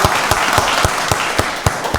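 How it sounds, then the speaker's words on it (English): Audience applause at a county board of commissioners meeting, a steady patter of clapping with a few louder individual claps standing out, sustained for the whole stretch and heard alone. "Let's give her a round of applause, everybody."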